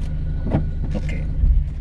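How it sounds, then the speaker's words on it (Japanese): A car engine idles and rumbles low and steady at close range during drift and spin-turn practice, with a brief rise in revs midway. "一回じゃとりあえず スピンターンで止まる"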